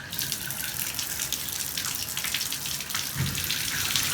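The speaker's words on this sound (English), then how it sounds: "So now that we've turned our water back on" Water running steadily from a Pfister pressure-balanced shower after the hot and cold supply are turned back on, a loud continuous splashing rush near at hand with no talking.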